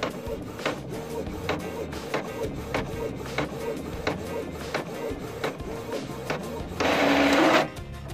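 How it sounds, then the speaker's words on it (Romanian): A printer makes a ninja star (shuriken), producing a rhythmic run of clicks and mechanical whirring at a steady pace, followed by a brief louder buzzing burst near the end. "Imprimanta își face combinația ei."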